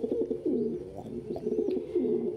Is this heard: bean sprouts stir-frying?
no